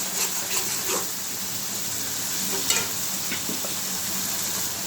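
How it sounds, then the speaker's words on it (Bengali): Potatoes fry in a hot pan with a steady, close sizzle and crackle, broken by a few soft scraping stirs and faint clinks. "আলুটা আমি ভাজি নেই"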